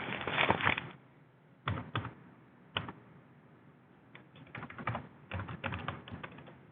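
Someone types on a computer keyboard in short, quick bursts of close keystrokes separated by brief pauses, with no voices.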